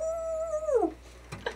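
A dog indoors lets out a single rising-then-falling howl that trails into a whine, followed by a couple of faint brief yips.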